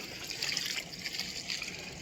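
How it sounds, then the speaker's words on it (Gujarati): Steady rush of water pouring from a running well pump motor on a farm, close and continuous, with no voices. "અમારે મોટર ચાલુ છે લીલાડામાં. ગરમા ગરમ ને તાજે તાજું મસ્ત પાણી જાય."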